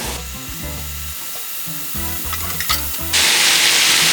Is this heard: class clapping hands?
no